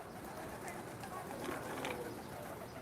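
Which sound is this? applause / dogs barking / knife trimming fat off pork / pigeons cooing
pigeons cooing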